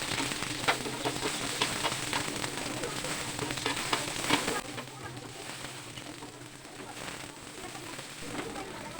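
Onions with red and green capsicum fry in hot oil on a griddle, a busy crackling sizzle that runs loud and dense for the first half, then settles to a softer, steadier fry.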